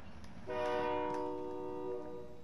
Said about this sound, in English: the train's already made its way around again